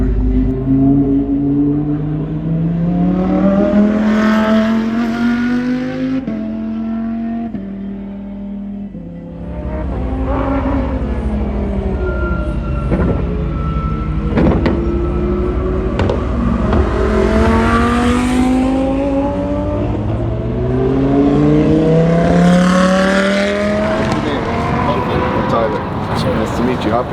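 A Lamborghini Huracan Super Trofeo race car engine revs and accelerates repeatedly, its pitch sweeping up through the gears in loud close passes, with people talking over it.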